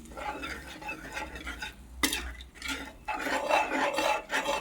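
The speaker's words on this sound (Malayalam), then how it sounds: "ചെറിയൊരു തക്കാളിയോടിട്ട് മിക്സ് ചെയ്യും നമ്മൾ പുളിവെള്ളം ഒഴിച്ചു" A spoon scrapes and stirs chopped tomato into tamarind water in a cooking pot, close-up, with repeated rasping strokes and metallic clinks of utensil against the pot, no talking.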